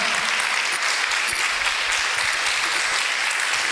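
Steady, loud applause from a crowd fills the whole stretch, a dense even wash of clapping.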